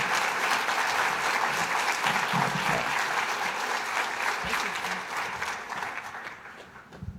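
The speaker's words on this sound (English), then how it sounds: "let's give him another round of applause for his excellent work" Sustained audience applause at an awareness day awards luncheon, full and steady clapping that thins slightly toward the end, with faint voices underneath.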